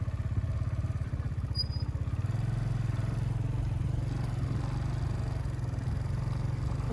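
A motorcycle rides along a rough mountain trail between Kashmir's Sharda and Jhalkhad, its mid-pitched engine droning steadily and fairly quietly with a fast pulsing rhythm, joined by faint rattling clatter.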